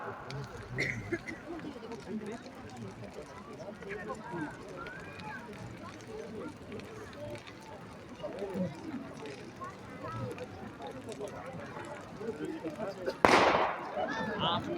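A single sharp ceremonial firecracker bang bursts out near the end, loud and close, after a stretch of crowd murmur and talking, at the Pirola Parola Epiphany-eve event in Noale, Italy.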